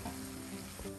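Rice being stirred in a sizzling butter and vegetable mixture in a pan, steady frying crackle with a couple of soft scraping stirs, fairly quiet.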